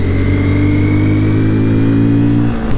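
A Honda CB190R motorcycle rides along a road in Peru within a group of about sixty or seventy motorcycles. Its engine hums in a loud, steady, close drone that eases slightly near the end.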